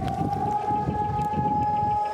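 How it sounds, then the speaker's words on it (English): A civil defense siren sounding nationwide across Israel holds one steady, sustained wailing tone throughout, loud and continuous, with a low rumble of distant background noise beneath it. "On Monday morning, a siren sounded throughout the country."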